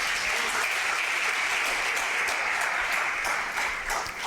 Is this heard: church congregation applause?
yes